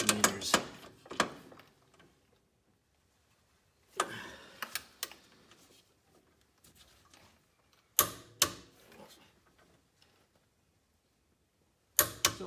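A torque wrench tightens a shock absorber bolt on a 1994 Mercedes-Benz C280, giving sharp ratcheting clicks in bursts about every four seconds, with quiet gaps between strokes.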